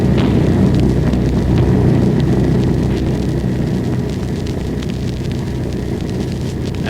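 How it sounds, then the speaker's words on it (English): Anti-aircraft flak bursting around an aircraft in the Biggles radio drama, heard as a dense low rumbling roar with scattered muffled thuds under steady engine drone, fairly loud throughout with no talking. "do those explosions seem further away?"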